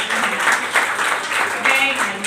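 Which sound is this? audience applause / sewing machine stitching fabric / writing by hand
audience applause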